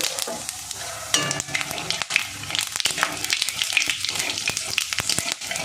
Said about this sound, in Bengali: দেখুন ফোড়নটা সুন্দর ভাজা হয়ে গেছে।